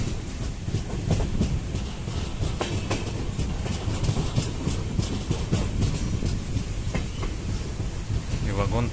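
An Indian passenger train rolls along the rails, heard from inside a nearly empty carriage: a continuous rumble with rhythmic wheel clatter and faint squeaks, steady and moderately loud throughout.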